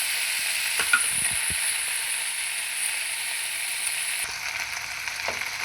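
Peanuts fry in oil in a pan for tomato chutney with a steady, close sizzle, interrupted by a few soft scrapes and clinks as they are stirred.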